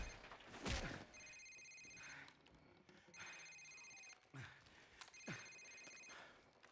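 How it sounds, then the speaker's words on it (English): A cell phone rings in Call of Duty 4: Modern Warfare on Xbox 360. It gives three distinct bursts of electronic ringing with short gaps between them, fairly quiet, with brief scuffling noises in between. "Sir, it's his cell phone."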